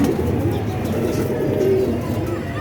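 A loft pigeon, one recovering from a virus with mild paralysis, coos among others in a low continuous burble, loud and close with a bird call just audible above it.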